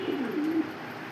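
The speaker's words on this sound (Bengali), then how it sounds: "বুঝতে পারছেন কোকা কবুতর কিন্তু ডাকে" Fancy pigeons at a Bengali pigeon farm give a single soft, low cooing call lasting about half a second, close and clear over a quiet background with no talking.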